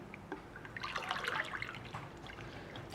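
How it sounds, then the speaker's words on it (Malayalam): Cooled boiled water is poured into mango pulp, a soft trickling and splashing of liquid that swells in the middle and then settles, quiet and alone. "ഇനി നമുക്ക് ഇതിലേക്ക് ആവശ്യത്തിന് വെള്ളം ചേർത്ത് കൊടുക്കാം"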